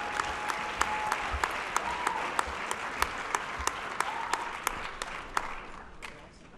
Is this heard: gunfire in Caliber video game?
no